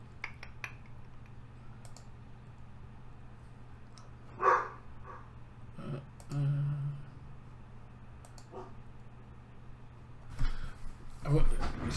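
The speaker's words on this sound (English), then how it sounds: "Just wondering why Frank was barking then." Dog named Frank barking somewhere in a house, a few short, fairly distant barks scattered over a steady low hum and faint clicks.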